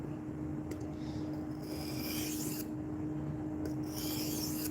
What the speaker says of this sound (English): A little extra on this 400 grit because I'm trying to be sure that I get a good bevel, a good micro bevel, I guess, on this edge.